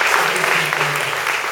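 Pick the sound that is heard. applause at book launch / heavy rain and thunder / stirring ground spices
applause at book launch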